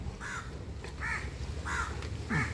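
Four harsh caws from a crow ring out at even intervals against a low background hum, each call short and moderately close.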